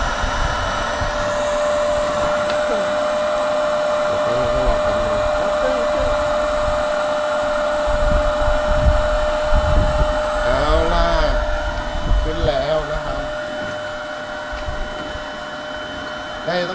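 An electric air pump inflates a Coody 8.0 inflatable tent, a loud, steady whirring drone that runs the whole stretch. A few brief mechanical chirps rise over it near the end.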